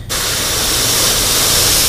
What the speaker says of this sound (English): We want a little bit lighter of a spray.